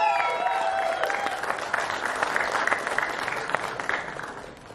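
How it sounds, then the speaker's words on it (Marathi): An audience claps loudly and steadily for a Marathi film's writer at a film event, a dense wash of applause with scattered cheers that slowly fades toward the end. "जोरदार टाळ्या झाल्या पाहिजे"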